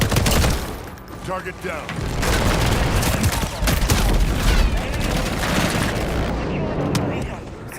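Dense, heavy enemy gunfire and explosions in the Modern Warfare multiplayer shooter, a loud continuous barrage of overlapping shots and booms, with a brief spoken callout mixed in.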